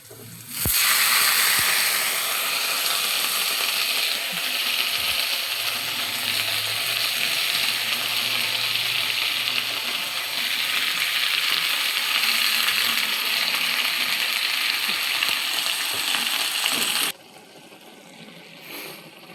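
Red amaranth greens fry with onion in a hot pan, making a loud, steady sizzle that runs for most of the time and then drops away sharply near the end.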